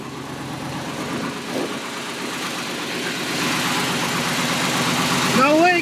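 A Chevy small-block Vortec truck engine idles steadily with a low rumbling pulse, moderately close, rising slightly in level toward the end where a brief squeak and clatter cut in.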